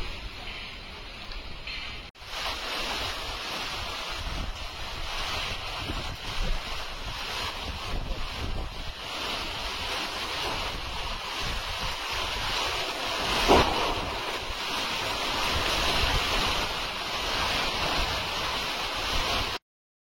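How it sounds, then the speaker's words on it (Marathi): Monsoon rain drums steadily on a tin sheet roof, a dense continuous hiss and patter that swells slightly partway through, with no voices. "पत्र्यावर पावसाचा आवाज आहे ना टप टप टप टप"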